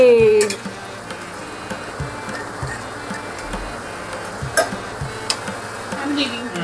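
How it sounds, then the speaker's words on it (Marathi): Sabudana pakodas and green chillies fry in hot oil with a steady, soft sizzle, punctuated by occasional light clicks and taps from stirring at close range, with no talking. "आणि याच्यासोबत आपण अशी थोडी तळून घेऊ मिरची पण खायला"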